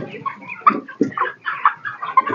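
Broiler chickens cluck in quick, close bursts as they are caught, with several birds calling in an uneven rhythm and brief pauses between calls.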